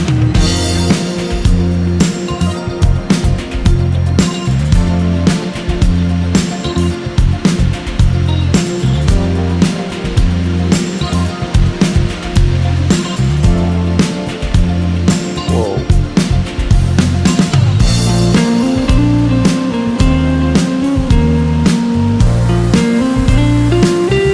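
The Khun Si Waterfall on Koh Samui, Thailand, roars loud and steady throughout, with dense rushing water and no pauses.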